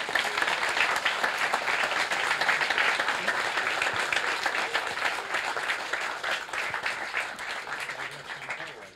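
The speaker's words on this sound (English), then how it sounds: "So I'd like to give a really, really big round of applause for everyone who's helped set today up." An audience at a radio amateur live event claps in a steady, dense burst of applause that carries through the whole stretch and slowly thins toward the end.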